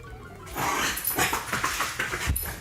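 Dogs yip, whimper and bark indoors in the background, a restless run of excited, high-pitched canine noises starting after a brief quiet moment and continuing throughout.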